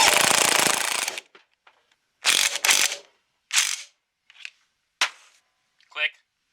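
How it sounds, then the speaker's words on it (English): An impact tool tightens flywheel bolts on a 1996 Polaris XCR 440 snowmobile: one long loud rattling burst, then a few shorter sharp hits spaced apart in a quiet workshop. "You should always torque these flywheel bolts correctly."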